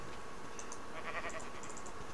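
Sheep bleating softly on a farm in a Minecraft modpack, a few faint, brief bleats over a steady low hum, with no talk.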